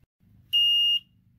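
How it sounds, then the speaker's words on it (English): An RV holding tank alarm sounds one sharp high-pitched electronic beep, about half a second long, loud and alone against a quiet background. "Hey, like my alarm system."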